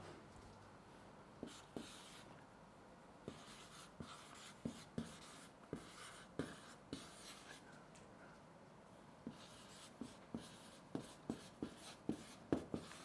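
Handwriting with a pen on paper, close and quiet: soft scratching strokes punctuated by irregular light taps as words are written, with no talking.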